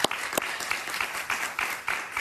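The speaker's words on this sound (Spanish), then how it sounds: "Un aplauso" Studio audience applause during a televised interview, a dense steady patter of many hands clapping close and loud for a couple of seconds, with no voices on top.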